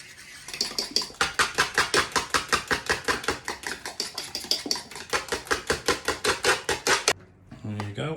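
Banana and coconut milk pancake batter being mixed briskly in a bowl: fast, even, rhythmic strokes about four per second that stop abruptly near the end, followed by a short, different sound.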